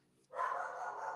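A female guard dog barks in a steady, continuous outburst that kicks in abruptly after a short quiet lead-in and keeps going at a moderate, close level.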